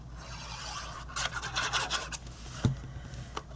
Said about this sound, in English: make sure you have it nice and lined up before you really press it down with your bone folder